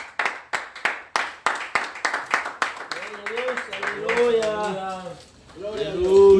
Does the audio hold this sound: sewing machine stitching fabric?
no